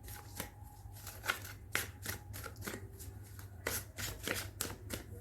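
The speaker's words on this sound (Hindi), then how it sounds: "चलिए पहले शफल करते हैं।" Tarot cards being shuffled by hand, a run of crisp riffling flicks and soft slaps in an uneven rhythm, close and fairly quiet over a low steady hum, with no talking.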